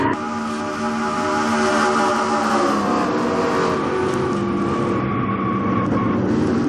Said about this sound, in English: Ooh, boy, big crash.